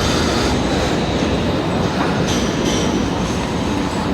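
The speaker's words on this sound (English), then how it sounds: "how many bloody trams have come past?" A tram rolls past on a Sydney city street, a loud, steady rumble of wheels on rails with faint squealing, close by throughout.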